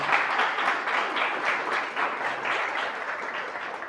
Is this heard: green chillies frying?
no